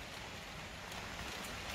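Steady rain falls outdoors as a dense, even hiss with no pauses, loud and close, and no voices over it.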